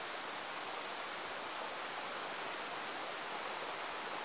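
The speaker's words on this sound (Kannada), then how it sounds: "ಈ ಫಾಲ್ಸ್ ಹೆಸರು ಗೂಗಲಲ್ಲಿ ಖಂಡಿಕಾ ಫಾಲ್ಸ್ ಅಂತ ಇದೆ." Khandika Falls near Siddapura in Uttara Kannada, running low in the dry season, gives a steady, even wash of falling water with no talk over it.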